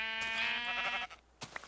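A single sheep in the video game Minecraft gives one drawn-out, wavering bleat up close, followed by a few soft clicks and bumps.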